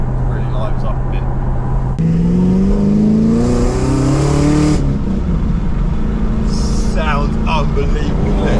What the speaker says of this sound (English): When you put your foot down and the voltage booster for the fuel pump kicks in, it really lives up a bit.